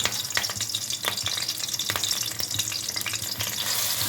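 Green chillies and onion paste sizzle in hot oil, a dense continuous crackle with scattered pops and stirring scrapes, close up and steady, without any voices.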